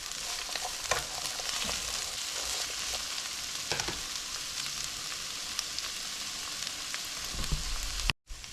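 Peppers frying in oil in a pan for sweet and sour pork, a soft continuous sizzle broken by occasional stirring scrapes and clicks, no talking.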